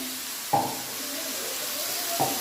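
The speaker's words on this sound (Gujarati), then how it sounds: "હવે આપણે લસણ બરાબર સતળાઈ ગયું છે એટલે એમાં આપણે નાખીશું આપણું સિંગદાણા" Peanuts drop into a pan of sautéed garlic and sizzle with a steady soft hiss, with two sharp clinks from a utensil against the pan.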